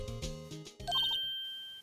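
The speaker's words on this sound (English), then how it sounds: "They gotta change this ringtone." A phone ringtone in the Phoenix Wright: Ace Attorney video game plays a short electronic melody of low chiming notes, then a quick run of high beeps ending in a sustained tone, clear and alone.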